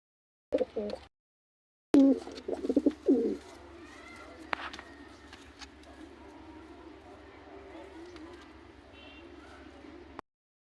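Pigeons, including baby pigeons, coo softly and steadily in the background, with a few brief bursts of voices and bumps near the start.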